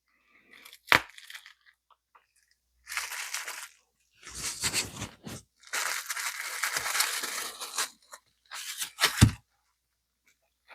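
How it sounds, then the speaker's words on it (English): Packaging on a mail parcel is ripped open by hand in several loud bursts of crinkling, tearing and crushing close by, with short pauses and a sharp thump near the end. "I just do what Bigfoot does and just rip things apart."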